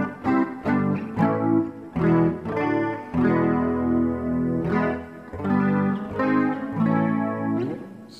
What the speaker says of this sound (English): The other thing you can do is you can add reverb.